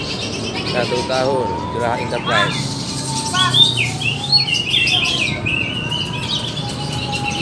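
Green leafbird (cucak hijau) singing at a songbird contest, quick bright chirps and warbling phrases repeated near and loud, mixed with other birds calling in the background while an announcer talks over parts of it.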